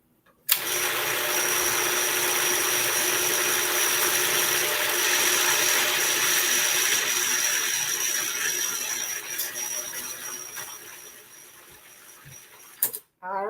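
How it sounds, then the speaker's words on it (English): A food processor purees boiled sweet potato and squash with a loud, steady whirring motor drone that runs for about twelve seconds, then winds down and cuts off with a clunk. "I'm going to turn the food processor on and puree it, so it's going to get noisy in here"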